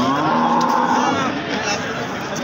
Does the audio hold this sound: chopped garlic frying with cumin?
no